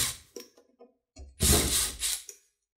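Ratcheting and mechanical clicks from loosening 5/16 screws on the belt guard of a 22-inch Snapper push lawnmower, in short close bursts with a louder stretch of turning near the middle, then quiet.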